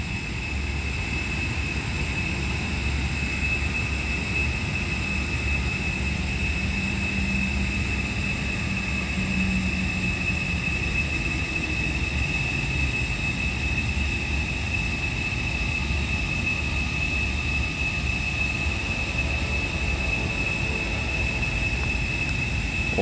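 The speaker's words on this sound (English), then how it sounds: "Train, probably 590." A steady, loud rumble with a constant high whine runs unbroken throughout as Norfolk Southern train 590, led by locomotive NS 1030, rolls past close by in Creighton, Pennsylvania.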